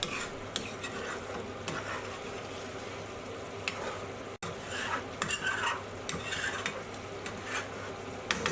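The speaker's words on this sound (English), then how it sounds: "I just need to scrape all the edges back into the sauce" Utensil scraping and stirring chicken Madras curry sauce in a pan on a gas hob, with repeated scrapes against the pan edges over a steady low sizzle.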